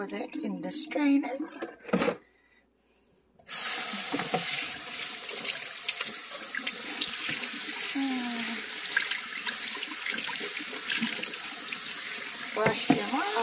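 Running water gushes steadily into a strainer of freshly picked blackberries like a tap into a sink, after a brief burst of clatter and a pause; a voice speaks briefly.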